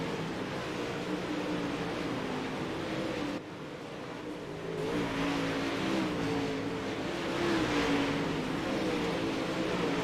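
Dirt-track race cars in an official UMP event come out of turn four, their engines roaring as a steady, fairly loud drone that dips briefly and then swells again as they accelerate, with no voices over it.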